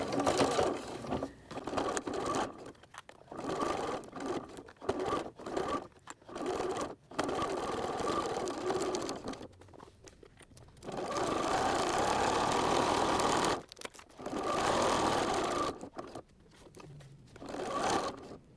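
A sewing machine stitches around Velcro on a seat belt cover, running in repeated bursts of quick mechanical whirring separated by short pauses, close and moderately loud.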